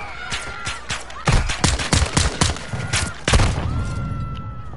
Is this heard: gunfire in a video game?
yes